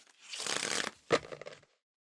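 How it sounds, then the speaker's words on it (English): A deck of tarot cards is shuffled close by in two quick bursts, a longer papery riffle and then a sharp snap with brief flutter. No talk. "I'm going to shuffle the cards and take another look"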